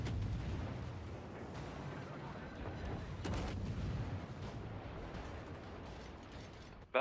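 Ship cannons firing in the naval battle game World of Warships, heard as a dense, continuous rumble with mechanical clatter and a loud burst of a shot at the very end.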